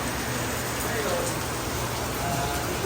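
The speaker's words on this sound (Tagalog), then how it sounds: "Sobrang lakas ng ulan." Heavy rain pouring down steadily at a park café in Lipa, Batangas: a dense, constant hiss of rainfall that stays loud and even throughout, with no clear voices.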